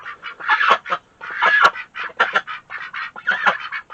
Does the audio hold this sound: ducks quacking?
yes